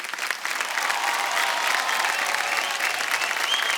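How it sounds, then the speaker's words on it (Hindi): Audience applause at a folk singing reality show, a steady wash of many hands clapping that stays loud and sustained throughout, with no talk over it. "तालियां बजती रहनी चाहिए।"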